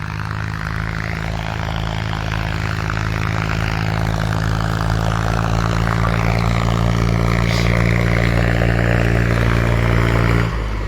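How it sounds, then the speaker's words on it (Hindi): A tractor and JCB excavator work through standing crops in a flood-channel field. Heavy engines drone loudly and steadily at close range with a strong low hum, then stop abruptly near the end. No speech. "देखिए किस तरह खड़ी फसलों को इस समय ट्रैक्टर और जेसीबी के माध्यम से"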